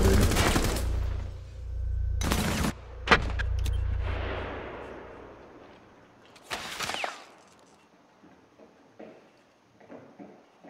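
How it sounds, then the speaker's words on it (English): Rainbow Six Siege firefight on the Kanal map, several loud bursts of automatic gunfire and single sharp shots up close, followed by a decaying rumble and a quieter tail of faint clicks and footsteps. "Somebody shot that."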